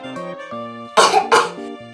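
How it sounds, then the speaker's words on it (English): Two sharp coughs burst out close by, one right after the other, over soft background music. "I have a cough."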